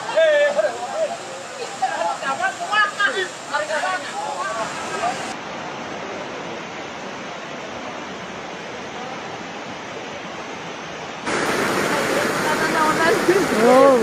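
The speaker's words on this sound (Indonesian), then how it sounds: "Samarang banjir, guys." Floodwater of the Cimanuk river in Garut surges in a loud, steady roar of rushing water, broad and close, with a few voices talking over it.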